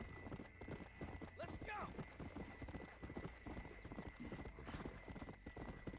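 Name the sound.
horse hooves clip-clop while riding in a video game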